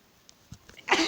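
A single sneeze bursts out loudly at the very end, after a few faint, scattered small noises in near silence.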